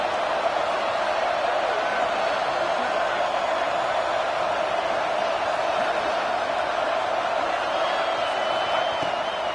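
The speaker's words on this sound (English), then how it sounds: "this crowd is ready." Dense roar of an Ole Miss football stadium crowd in a college football game, a steady wash of cheering and noise holding level throughout.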